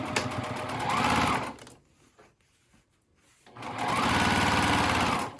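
A sewing machine top-stitches fabric for a pie carrier in two fast, whirring bursts of about a second and a half each, separated by a quiet pause with small handling clicks, close and with no talk.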